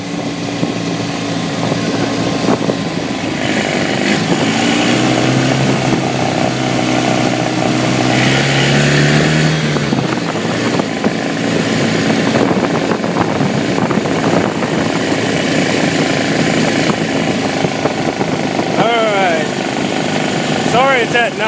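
A homemade dune buggy engine drones loudly and steadily on a night road ride, rising in pitch as it revs up, with rattling and wind noise mixed in.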